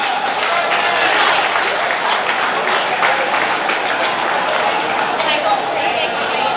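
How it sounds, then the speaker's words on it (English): A banquet audience at a speedway awards dinner in a stockyards hall claps in a long, dense, steady round of applause, with scattered chatter and voices mixed underneath. "Give them a big round of applause, ladies and gentlemen"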